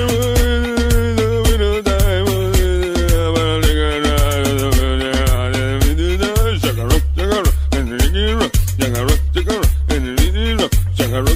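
Song played during a radio countdown, an upbeat track with steady pounding bass beats, sharp percussion and a prominent melodic line, loud and continuous throughout.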